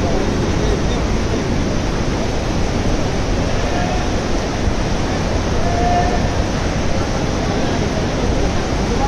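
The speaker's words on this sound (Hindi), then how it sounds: "इधर पानी का बहाव देख सकते हो कितना तेज है।" Fast-flowing river water at Manikaran in Himachal Pradesh roars with a loud, constant rushing wash that holds steady from start to finish.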